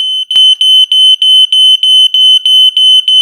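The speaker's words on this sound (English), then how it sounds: "Turns out the smoke alarms work." Loud smoke alarm triggered by haze from an old smoke machine, beeping in a fast, steady rhythm of sharp piercing chirps, close to the microphone with no talking.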